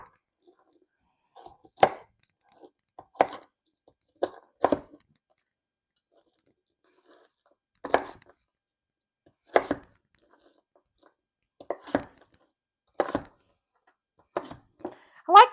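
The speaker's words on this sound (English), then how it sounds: "And our frozen carrots, chop these up a little bit if I can." Frozen carrots are chopped with a knife on a board, giving about a dozen sharp, separate crunching chops in uneven bursts, close and fairly quiet, with short silences between them.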